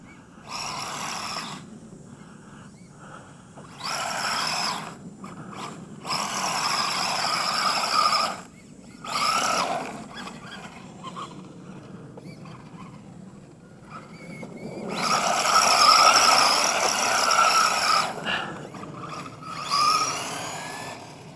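An Exceed RC DriftKing drift car spins donuts in sand, its small electric motor whining in repeated bursts that swell and fade with each loop, loudest near the end, with no one speaking.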